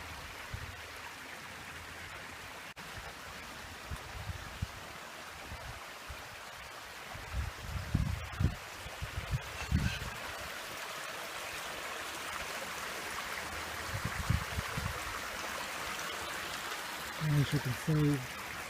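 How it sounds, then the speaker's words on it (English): Small waterfalls splash steadily in a garden water feature among rocks, a continuous near trickle and pour with low rumbling swells, while people talk intermittently over it. "The little waterfalls, beautiful water feature."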